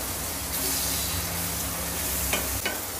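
Red chili powder sautéing in a pan for khichdi makes a continuous close sizzle, with a couple of brief clinks near the end and no voices.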